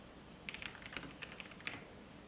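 Text being typed on a computer keyboard, a faint string of sharp, separate key taps at uneven intervals over a soft background hiss.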